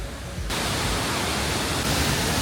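Waterfall in Bali: a dense, steady, broadband rush of falling water that fills the clip at constant loudness after a brief quieter start, with no voices.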